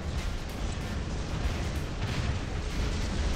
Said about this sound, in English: Airstrike on the Nodens.